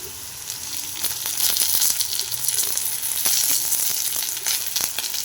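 Ginger garlic paste frying with onions in a pan, a close, bright crackling sizzle that swells and steadies, with a few light stirring taps and no talking.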